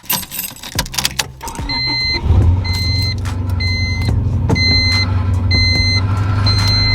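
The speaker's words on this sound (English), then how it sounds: "I love the sound this car makes when you start it after not starting it for a few days." A high-mileage car engine, about a quarter million miles, cranks with a few clicks after sitting for days, then catches and settles into a steady, rumbling idle, with repeated short electronic chimes beeping over it.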